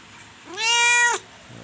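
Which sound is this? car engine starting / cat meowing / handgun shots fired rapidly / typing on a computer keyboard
cat meowing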